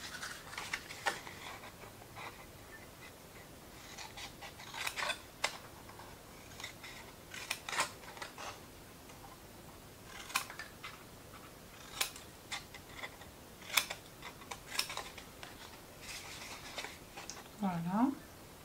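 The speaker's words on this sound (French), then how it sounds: "Là, je coupe en biseau." Scissors snip at a bevel through material for a handmade advent calendar cabin, a series of faint, crisp clicks and cuts scattered irregularly across a quiet room.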